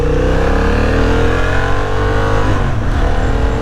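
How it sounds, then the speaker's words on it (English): A car engine runs steadily and loudly up close, its drone shifting in pitch toward the end as the vehicle lurches forward and back. "what is this car doing? Why is it moving forward and back?"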